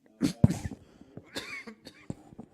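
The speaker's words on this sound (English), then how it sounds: "I've got what a lot of people refer to as the 100-day cough" A few short, harsh coughs in quick succession, fairly close, followed by quieter rough bursts and breathy noises.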